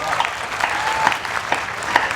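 Audience applause at a Rajasthani-language comic poetry recital during the Jalore Mahotsav kavi sammelan, a short burst of steady clapping from a seated crowd, fairly close and loud throughout.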